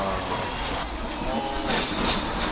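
A Hong Kong double-decker tram in motion gives a steady rolling rumble with rail clatter and faint squeals, while background voices murmur underneath.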